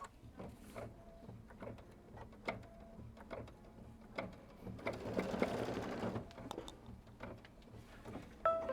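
A computerized embroidery machine stitches down fabric held in an embroidery hoop for a quilt block, giving a steady rapid mechanical chatter with regular needle ticks. The stitching runs alone and continuously at moderate loudness, swelling a little toward the middle.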